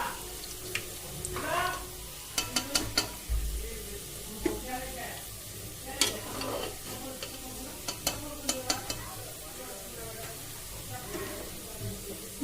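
Onions fry in a pan for chicken biryani, giving a soft continuous sizzle with scattered stirring scrapes and clinks from a utensil, fairly quiet and close, while a person talks over it.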